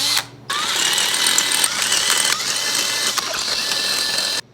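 A half-inch drill bit cuts through a row of steel push rods, a continuous grinding, ratcheting whir up close that runs steadily for about four seconds before stopping abruptly.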